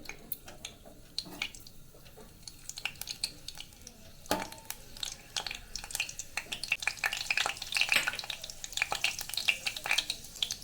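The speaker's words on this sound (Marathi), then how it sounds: "प्रथम मी इथे तेल तापत ठेवलेलं कडे त्याच्यामध्ये कढीपत्त्याची पानं टाकून घ्यायचे" Curry leaves crackle and sizzle in hot oil for a raw banana masala, with steady frying hiss punctuated by sharp spitting pops and a few utensil taps, building livelier toward the end; no voices.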